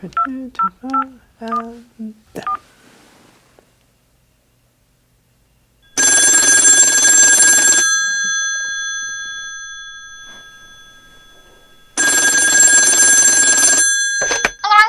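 A rapid string of telephone keypad dialing tones, then a pause, followed by two long, loud bursts of an electronic ringing tone on the line, spaced several seconds apart.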